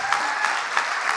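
An audience at a family feast gathering claps together, dense steady applause from a room full of people, close and fairly loud, with no talk over it.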